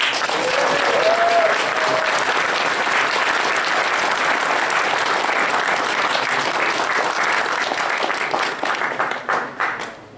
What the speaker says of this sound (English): So let's get a round of applause for Aegis.